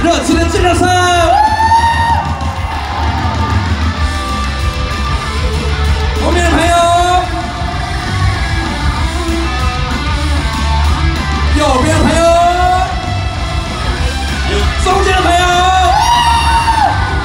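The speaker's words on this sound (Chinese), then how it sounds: "再来一次，热情的尖叫声！" An outdoor concert crowd at the 2022 Taichung Lantern Festival in Qingshui yells, whoops and cheers enthusiastically over loud amplified music and singing, the shouts rising in repeated bursts.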